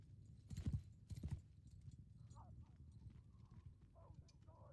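Horse hooves clip-clop in the medieval video game Bannerlord, with a couple of louder hoof thuds followed by softer, steady footfalls under low background noise and a faint voice.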